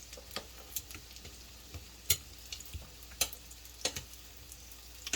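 Zucchini and enoki mushroom pancakes fry in a pan with a steady low sizzle, broken by scattered sharp clicks and taps of a utensil against the pan.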